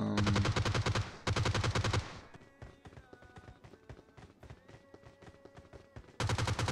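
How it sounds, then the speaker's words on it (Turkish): Gunfire in the video game PUBG Mobile comes as loud rapid automatic bursts at the start, then a quieter stretch of small clicks and footsteps, and a final burst of shots at the end. "Şuradan sen birine sıkıyorsun değil mi?"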